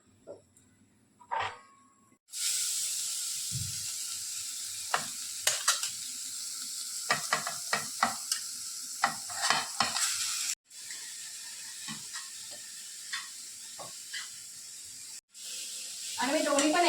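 Grated fresh coconut and jaggery roasting together in a pan, a steady close sizzle broken by repeated scraping strokes of a spoon as the mixture is stirred, with brief pauses in between.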